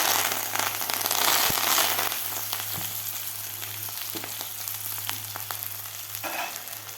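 Fresh chickpea leaves sizzle in hot oil with cumin and mustard seeds, a dense, steady crackling fry that stays loud and close throughout, with occasional stirring clinks and no talking.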